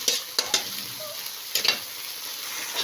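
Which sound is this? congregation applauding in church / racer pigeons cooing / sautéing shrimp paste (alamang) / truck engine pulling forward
sautéing shrimp paste (alamang)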